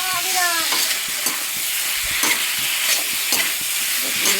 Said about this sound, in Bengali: মশলাটা কষানো হয়ে গেছে, পেঁপে আলু এবার চিংড়ি মাছগুলো দিয়ে দিলাম